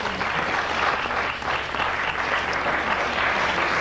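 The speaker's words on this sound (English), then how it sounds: "People applaud if you've seen one." Audience applause in a lecture hall during a talk on unexplained phenomena, a steady, dense wash of clapping from many people that holds at an even level throughout.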